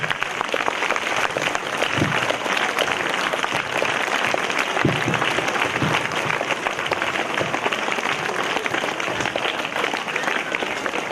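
Applause from students filling a school hall at a literary club fest, a dense steady wash of many hands clapping throughout with some noise, fairly loud and unbroken.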